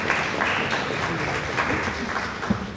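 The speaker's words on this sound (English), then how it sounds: "Give your families a round of applause" Audience at a Fairhaven High School concert applauding students' families, a dense burst of clapping from a crowd filling the room for a few seconds.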